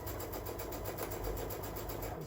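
A sewing machine runs steadily while stitching a quarter-inch seam in fabric pieces for flying geese quilt blocks, a continuous close whirring motor hum with a fast regular needle rhythm and no talk.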